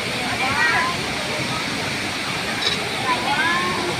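Waterfall at Stubo Falls, a loud, steady rush of falling water filling the whole clip, with faint bird chirps above it.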